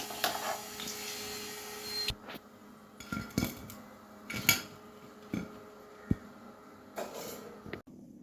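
Fried banana kebabs are scooped out of hot oil with a metal utensil that clinks and scrapes against the pan in scattered, irregular knocks, close and fairly quiet, with no voices.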